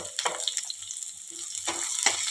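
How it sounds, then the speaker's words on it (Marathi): Finely chopped onion is sautéed in a garlic tempering for a village-style black val bean curry, giving a close, soft crackling sizzle with brief stirring scrapes. "कांदा आपल्याला छान सोनेरी रंग येईपर्यंत परतून घ्यायचा आहे।"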